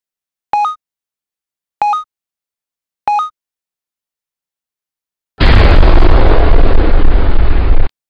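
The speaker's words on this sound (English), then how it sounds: "I gotta run before it explodes." A video game bomb detonating: three short identical electronic beeps spaced evenly, then silence, followed by a loud, sustained roaring explosion rumble that fills the remainder to the end.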